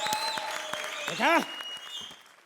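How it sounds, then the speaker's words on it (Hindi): Studio audience applause on a Hindi TV comedy stage show, a steady clatter of clapping mixed with a host's talking and a brief rising sound effect. "तालियां बजाओ।"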